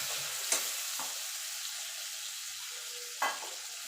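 Tomato, ginger and green chilli paste hits hot tempering in a pan for a vegetarian cauliflower and potato curry, giving a soft, steady sizzle broken by a couple of sharp utensil clicks.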